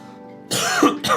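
A single sharp cough or throat-clear, close and fairly loud, with a brief second burst right after, over a quiet background.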